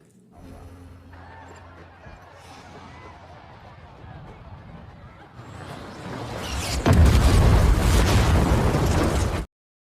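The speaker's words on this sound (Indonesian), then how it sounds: "Tanpa berlama-lama tentara Amerika pun menembakkan roket ke lokasi pesta tersebut." A rocket strike explosion from the action film London Has Fallen, a loud burst that swells into a heavy roaring blast and rumbling debris in the final seconds, building from a tense low drone.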